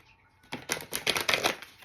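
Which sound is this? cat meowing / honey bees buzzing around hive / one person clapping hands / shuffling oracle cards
shuffling oracle cards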